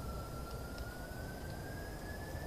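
A jet engine spools up on a VTOL craft in a video game, a steady loud roar under a thin whine that slowly rises in pitch over a couple of seconds.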